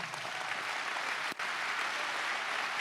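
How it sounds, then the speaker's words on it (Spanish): Loud, dense applause from a church congregation honoring its pastors, steady and continuous with one very brief dip partway through. "Y quiero que todos los demás les demos un fuerte aplauso."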